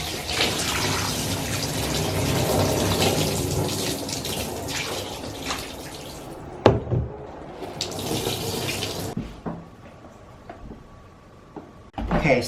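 Dye-tinted water poured out of a basin into a sink, a loud steady gushing stream that runs for several seconds, breaks off, resumes, then tapers into a few trickles and splashes.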